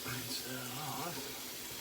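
Running tap water splashes steadily into a sink as a restored Friodur straight razor is rinsed after shaving, with a faint voice in the background.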